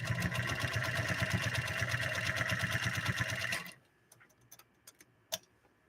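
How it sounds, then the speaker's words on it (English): A New Home rotary sewing machine stitching leather with a modified Schmetz leather needle, running in a fast, even mechanical chatter for several seconds, then stopping abruptly and leaving a few faint clicks and one sharp tap. "Beautiful stitching by this rotary new home machine that belongs to Bonnie."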